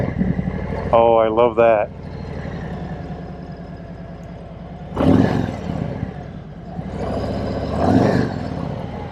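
Harley-Davidson Tri Glide Ultra motorcycle engine idling with a low rumble that surges in two revs, under a person talking nearby and a short whoop near the start.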